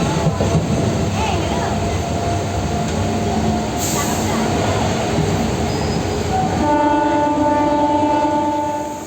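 A passenger train rolls at a village station at dusk, a loud rumbling clatter of wagons with a squealing whine rising near the end, faint voices underneath.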